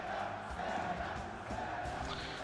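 A large crowd at the EVO fighting game championship cheers for the champion, a dense, steady roar of many voices filling the space without letup.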